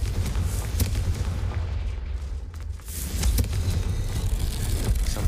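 A Confringo fire spell explodes in the video game Hogwarts Legacy: loud, dense blasting rumble with heavy booms, a brief dip, then another surge of explosive roar.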